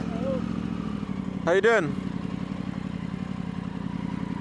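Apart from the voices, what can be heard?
motorbikes riding past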